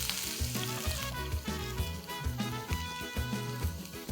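Finely chopped onion fries in hot oil for Goan mackerel curry, a steady crackling sizzle over low, rhythmic tonal sounds that play underneath throughout.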